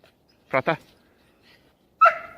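A dog in a training session gives two quick barks near the mic on cue, followed after a pause by a higher yelp or whine-like bark.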